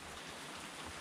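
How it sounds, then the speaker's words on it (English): Heavy rain falling hard outdoors in Slovenia, a dense, continuous hiss of drops on surfaces with no pauses, steady and fairly quiet, no voices. "And now it's raining just as hard over here."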